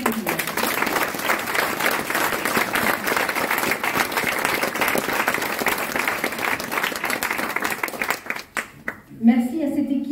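An audience applauds at the inauguration of an adapted company restaurant: dense, sustained clapping from a crowd that fades out near the end, followed by a voice briefly starting to speak.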